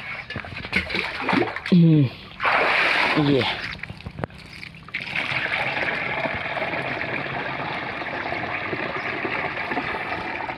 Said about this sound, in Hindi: जो गमछा लाए थे मुंह को ढकने के लिए, अब उसी से पानी को निकाल रहे हैं